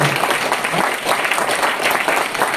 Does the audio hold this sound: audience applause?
yes